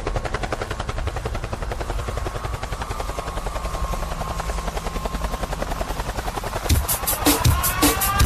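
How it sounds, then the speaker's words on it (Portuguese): A helicopter sound effect in a Brazilian funk track: loud, rapid rotor chopping that fills the whole stretch, with the music's beat bursting in near the end. "Olha o helicóptero da Safadeza chegando."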